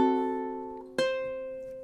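Ukulele strumming a song, passing from measure 16 back into measure 1: one ringing chord fades, then a second crisp strum lands about a second later and rings out alone.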